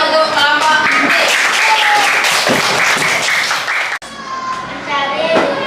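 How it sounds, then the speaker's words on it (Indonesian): A classroom of students claps for the presenting group, a loud, busy burst of applause with children's voices mixed in, dipping briefly near the end before picking up again. "Beri tepuk tangan untuk kelompok aktif."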